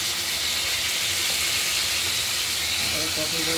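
Hot oil sizzles and spatters steadily in a pan right after salt is added, while a potato and cauliflower curry is being cooked; a dense, close hiss continues without a break.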